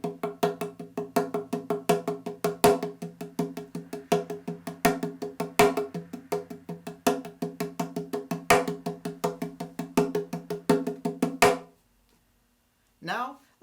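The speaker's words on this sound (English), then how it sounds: "we're only going to be accenting the first strike of the 16th note pattern" A steady run of fast crock drum strikes in an even sixteenth-note pattern, the first of each group hit harder, played alone before stopping abruptly.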